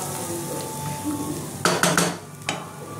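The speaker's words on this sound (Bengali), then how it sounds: "এবার এটা আমি ভালো করে কষে নেব" Spice masala with salt and a splash of water is stir-fried in a pan, a low steady sizzle broken by a few sharp scraping clanks of a spoon against the metal near the end.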